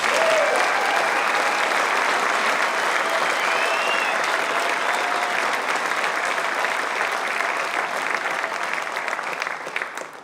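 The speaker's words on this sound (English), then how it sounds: "Please join in another round of applause for these 2019 Ivy Day Awards recipients." Sustained applause from an audience for 2019 Ivy Day Awards recipients at Chadron State College, dense, even clapping that holds steady and tapers off at the end.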